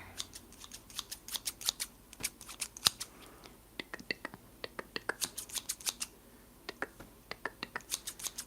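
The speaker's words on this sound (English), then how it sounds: "I would actually like to know the real reason for these scissors" Scissors are handled and snipped in quick, crisp cuts close to the microphone, arriving in irregular bursts with short pauses throughout.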